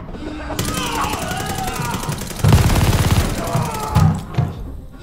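Gunfire and a grenade blast in the Call of Duty Vanguard campaign: steady loud crackling shots, then heavier booming bursts from about two and a half seconds, with irregular thumps near the end.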